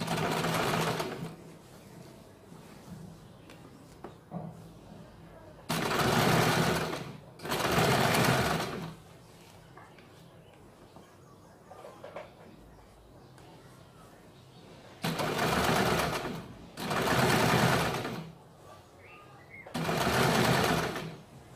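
An electric sewing machine stitches a kurti in short bursts, five loud whirring runs of a second or two each, with quieter pauses between them as the fabric is repositioned.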